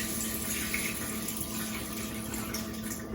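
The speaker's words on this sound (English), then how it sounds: "fill it up with some water" Tap water runs steadily into a pot for cooking beans in a home kitchen, a continuous moderate rushing splash with no talk.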